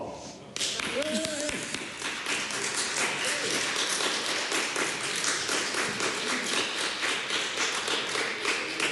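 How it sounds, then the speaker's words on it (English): A packed parliament chamber breaks into sustained applause, dense clapping and table-thumping rising sharply after a brief voice and continuing evenly and loudly to the end. "thank you for that warm applause"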